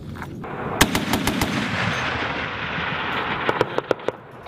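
Marine aircraft firing guns and rockets at a target in an air support exercise, heard as rapid loud bursts of shots over a continuous roar, with another burst of cracks toward the end.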